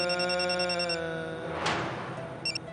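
A telephone rings with a repeating electronic tone pattern, fairly quiet, alongside a soft swell of background sound in an indoor domestic scene.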